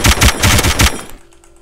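Rapid bursts of automatic gunfire from the video game DayZ, loud and close, pounding in a quick repeated rhythm for about a second before cutting off into quiet game ambience.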